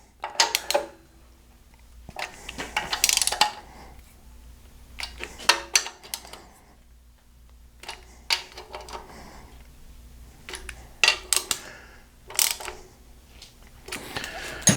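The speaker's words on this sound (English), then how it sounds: "The heat shield bolts, again, you don't have to torque them, just snug them up." A ratchet snugs up the exhaust heat shield bolts on a 2008 Pontiac Grand Prix, giving short clusters of close, clicking ratchet strokes separated by pauses, with a low hum underneath.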